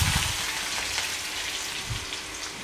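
Cumin, mustard seeds and a garlic-coriander paste crackle in hot oil, making a dense, even, rain-like sizzle up close with no speech.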